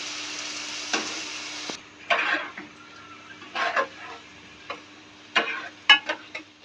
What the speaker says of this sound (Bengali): এখন ডাল চাল দিয়ে দিলাম এখন ভালো করে ডাল চাল কষিয়ে নেব